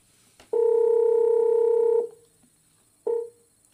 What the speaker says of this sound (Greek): γιατί χτυπάει το τηλέφωνο?